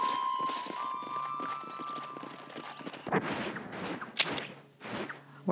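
In Red Dead Redemption, horse hooves clip-clop in a steady rhythm, close by, followed by louder hoof thuds, stamping and a whinny-like snort.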